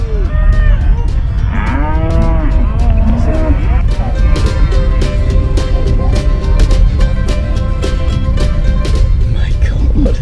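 A herd of cattle moos loudly and repeatedly as they run in a Saskatchewan round-up, overlapping calls near and far over constant rumbling movement, with people talking throughout.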